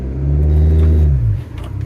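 A car engine with an air leak letting unmetered air in revs up close by, a loud low rumble that swells, holds, then drops into a rougher, uneven idle.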